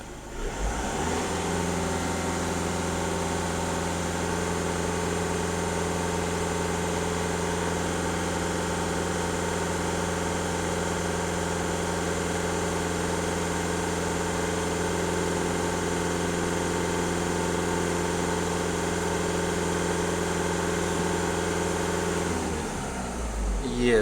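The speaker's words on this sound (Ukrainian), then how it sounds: "Дам обертів, щоб зафіксувати дані на холостом ходу і на обертах." A VW Golf 1.6 TDI diesel engine runs held at about 2500 rpm, a steady, loud, droning hum with constant pitch, close up, settling at the very end.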